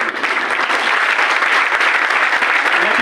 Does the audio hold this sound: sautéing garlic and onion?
no